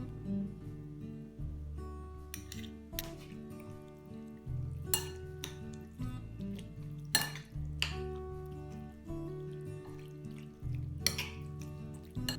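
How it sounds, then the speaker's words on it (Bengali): Meat being mixed with soy sauce, garlic and ginger for Japanese tori ten, heard as repeated clinks and scrapes of utensil against a bowl in a loose rhythm over a soft background of music, with no speech. "খুব ভালো করে মাংসের সাথে সয়া সস রসুন আদা মিক্স করে নিব"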